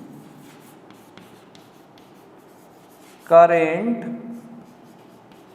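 Writing on a board during a class 12 physics lesson on circuit theory gives soft, faint scratching strokes, and a voice briefly speaks partway through.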